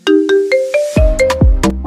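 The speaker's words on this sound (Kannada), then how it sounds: "ಮತ್ ಬಂತ ನೋಡಿ ಮತ್ ಫೋನ್ ಬಂತ." A mobile phone ringtone plays loud and close, a bright electronic melody of quick repeated tones and plucked notes with no talking.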